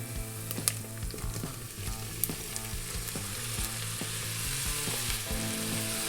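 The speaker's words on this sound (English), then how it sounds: "Now we're going to throw in the mushrooms." Milk cap mushrooms sizzle and fry in a hot pan with potatoes, a steady close crackle broken by occasional knocks and scrapes of stirring, with no talking.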